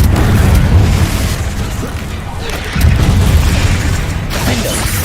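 Confringo spell explosions in the Hogwarts Legacy video game, heavy booming blasts with rumbling bursts that swell, dip and hit again over about five seconds.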